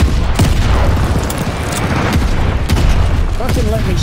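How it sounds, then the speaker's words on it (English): Explosions and heavy booms from a glide bomber strike in a Call of Duty match, several loud blasts and gunfire bursts layered over about four seconds of dense battlefield noise, with a voice talking over the chaos. "Friendly glide bomber incoming."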